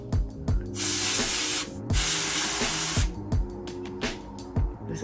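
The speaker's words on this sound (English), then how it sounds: "This is like spraying." Aerosol red hair color sprayed onto hair in zigzag strokes, a series of steady hissing bursts, close and loud, broken by brief pauses and soft handling knocks.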